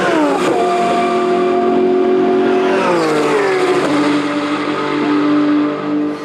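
A Porsche race car at Magny-Cours circuit, heard from the cockpit as a loud, continuous engine roar that climbs and drops in pitch through gear changes and throttle lifts, with no breaks.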